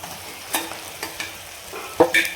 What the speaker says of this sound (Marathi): आणि छान मिक्स करून घ्यायचं आणि छान असं तेलावर परतून घ्यायचं आहे आपल्याला